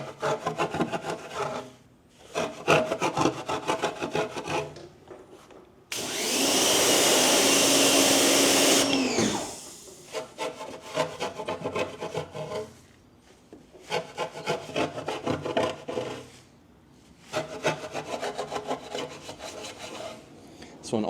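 An Easy Detail brush scrubs inside the wheel barrel of a BMW F80 M3, reaching behind the brake caliper. Repeated rhythmic scrubbing strokes come in close bursts, broken midway by a loud, steady rushing hiss lasting a few seconds.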